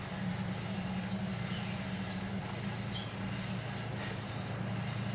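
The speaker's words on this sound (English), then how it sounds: "That's the cleaned up piston and piston rings seating back up to the freshly honed cylinder there." A cleaned McCormick Deering M piston with its rings rubbing in a freshly honed cylinder makes a faint, steady scraping hiss with soft repeated strokes and no talk.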